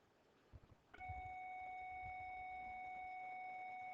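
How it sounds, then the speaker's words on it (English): A school bell starts with a sudden electric tone and then holds a steady, faint ringing, after a few soft knocks, with no voices. "Bell just rang."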